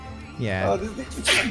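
A single sharp sneeze bursts out near the close of a moment of casual talk among gamers, preceded by brief speech and ending in a breathy hiss.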